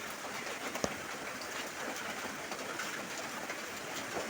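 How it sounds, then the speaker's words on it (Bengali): Steady hiss of rain falling outdoors, a continuous wash of noise with one brief sharp tap near the start. "বাইরে বৃষ্টি নেমে গেছে ওই যে দেখো বৃষ্টি পড়ছে"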